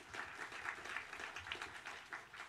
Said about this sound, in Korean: 박수를 한번 격려하겠습니다